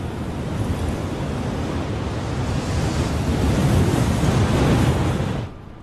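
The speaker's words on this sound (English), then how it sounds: "wind picks up loose sand and catapults it across the landscape for miles" Strong wind roars steadily across a desert landscape, driving loose sand along in a dense, rushing wash that swells slightly midway before easing at the end.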